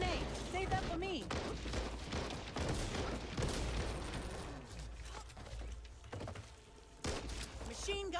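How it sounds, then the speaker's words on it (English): Machine gun fire in a video game, clattering mechanical bursts and booms layered under excited voices of players talking over the action. "Machine gun here!"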